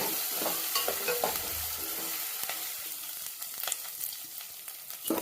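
Freshly ground ginger paste frying in a pan for a village-style brinjal curry, a soft continuous sizzle with occasional light scrapes and stirring clicks, fairly quiet and close with no voices.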